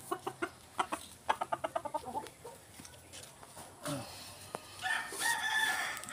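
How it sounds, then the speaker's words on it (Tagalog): A gamefowl rooster crows at a backyard breeder's among a flurry of clucking and sharp bird calls, fairly close, with rustling and scuffling noises in the background. "mga siniladong manok to."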